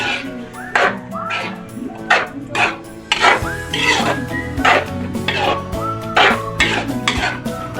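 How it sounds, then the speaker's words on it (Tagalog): Pancit bihon canton being stirred in a cooking pan with oyster sauce, metal utensils scraping and clinking in repeated strokes while a dog barks and a voice talks nearby. "Yan, haluin na natin."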